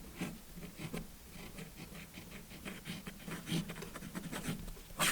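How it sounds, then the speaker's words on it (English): Kaweco Perkeo fountain pen with a flexible nib scratching across paper in short, repeated strokes, a faint, close rasping texture with no talk. "writing with this pen"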